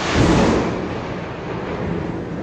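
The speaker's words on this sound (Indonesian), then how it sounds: "Petir." Thunder gives a loud, broad rumble that swells at the start and then rolls on, slowly fading. There is no talk over it.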